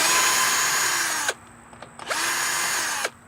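Power drill loosening a bolt on a lawnmower cover that had caught fire: two loud, steady whirring bursts close by, separated by a short pause with faint clicks.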